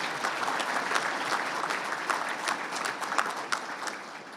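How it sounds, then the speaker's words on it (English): An audience at a technology education center dedication ceremony gives a round of applause, dense and sustained clapping throughout, with sharper individual claps standing out near the end. "If you give Dr. Sharma a round of applause."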